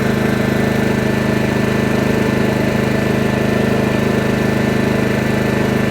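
A Champion CPG7500E2-DF-EU 7.0 kW dual-fuel generator runs on gas with petrol blocked, giving a loud, close, unbroken engine drone with a steady throb and no load changes.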